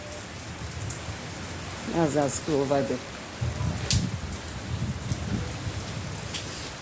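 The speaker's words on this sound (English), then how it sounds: "It's really raining." Heavy rain pours steadily outdoors near a school, a dense constant hiss that runs through the whole stretch, with a voice talking briefly over it.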